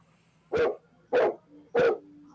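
A dog barks three times in a steady rhythm, each bark loud and close, with a low steady hum underneath and no one talking.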